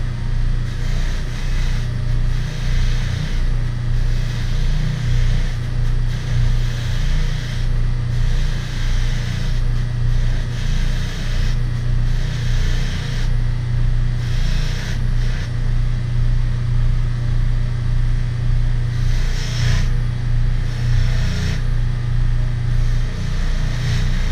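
Buffing wheel polishing solid brass door hardware with compound, a steady close whirring motor drone with pulsing grinding swells as the piece is pressed against the spinning wheel.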